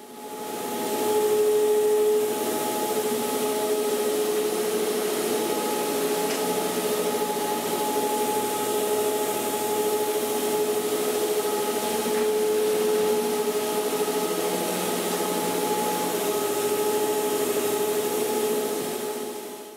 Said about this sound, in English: Using the rotowash with our SuperTuff multipurpose cleaner is the ultimate combination when it comes to